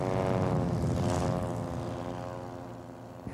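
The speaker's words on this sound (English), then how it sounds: "You can't hurt this airplane." A stunt airplane at an aerobatic air show drones loudly overhead with a strong propeller engine note, holding steady before gradually fading as it moves away.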